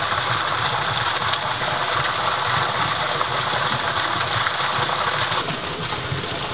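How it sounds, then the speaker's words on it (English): Steady, loud rushing roar of a waterfall right beside a micro hydro setup, a dense unbroken wash of water noise filling the whole stretch with no voices. "It's hard to record next to that waterfall."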